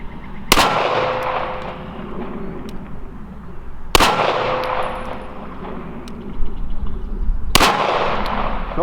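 Three loud, close gunshots from a Smith & Wesson 5906 PPC 9mm pistol with a 6-inch barrel, fired single action outdoors about three and a half seconds apart, each ringing off into a quieter background.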